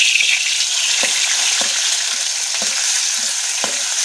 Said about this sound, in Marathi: एकदम झणझणीत अशी फोडणी बसते अशी.